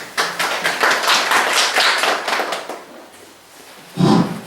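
Audience at a human rights and peace forum clapping to welcome a speaker, a dense burst of applause that tapers off, followed by a brief louder thump near the end.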